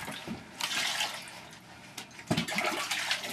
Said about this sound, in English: Run some more water here.